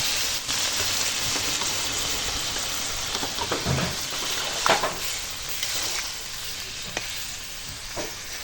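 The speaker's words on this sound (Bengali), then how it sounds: "এবার মাছের মাথাগুলো দিয়ে দেবো দিয়ে অল্প জল দেবো লাউটা দিয়ে যা জল অল্প বেরোচ্ছে আর অল্প জল দেবো" Rohu fish heads cook with bottle gourd in a pan, a steady sizzle under occasional louder stirring scrapes and spatters.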